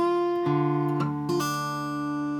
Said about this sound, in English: Otherwise, you might get that sort of pull-off sound there.